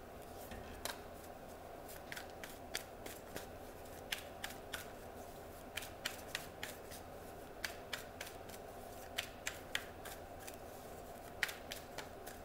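Tarot cards being shuffled, a faint, steady run of crisp snapping card flicks at close range over a quiet, humming room.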